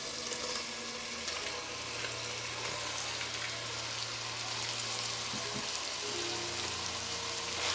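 Boiled tripe dropped into spiced masala frying in a pan, giving a steady broad sizzle and crackle throughout, fairly soft and even, with a brief soft disturbance near the end and no talking.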